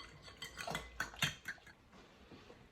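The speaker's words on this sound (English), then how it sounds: "Give that a little whisk with the fork." Fork whisking eggs in a bowl for a Spanish tortilla, a quick run of light metallic clinks and taps against the bowl, fairly close and moderately faint, with no talking.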